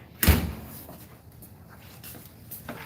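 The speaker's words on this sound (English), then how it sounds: "I'm gonna have to go close the door" A single sharp thud near the start as a door is shut inside a farm store, followed by quiet room noise with faint clatter in the background.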